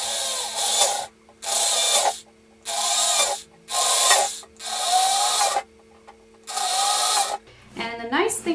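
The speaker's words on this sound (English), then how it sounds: "it's not melting to the drill bit" A power drill bores into arboreal reptile enclosure material in repeated bursts of about a second each, separated by short pauses, close and loud, ending with a brief clatter.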